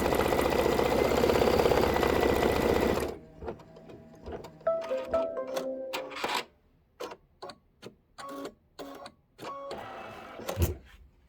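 An embroidery sewing machine stitching out a flower design runs with a steady close whir, then switches to short stop-start stitching bursts separated by near-silent pauses.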